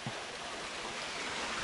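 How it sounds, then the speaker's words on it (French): A small, low-flow waterfall sends up a steady broadband rush of falling water just ahead, constant and fairly loud with no pauses and no voices. "Et la cascade qui est juste devant nous."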